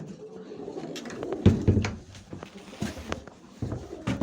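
Around 200 pigeons in a home loft give low, soft coos amid fluttering and small knocks and shuffles, close and irregular, with no talk.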